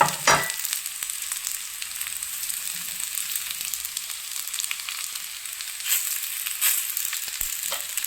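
Mutke shallow frying in a pan and being flipped, an even crackling sizzle close by with a sharp flip sound at the start and brief clatters later, no speech.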